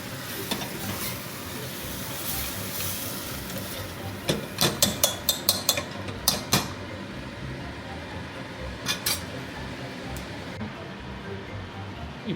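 Boiled dal being stirred into a cooking pot, a continuous wet churning with a burst of rapid spoon knocks against the pot in the middle and a few more taps later, close and alone.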